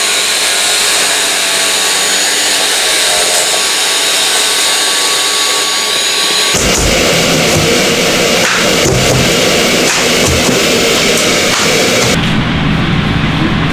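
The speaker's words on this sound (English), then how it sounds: "I'm going to go ahead and cut the corner of the drywall on both sides and up on the ceiling" Power tool cutting through a drywall corner during wall removal, a loud continuous whining roar that grows harsher and denser partway through, with no talking.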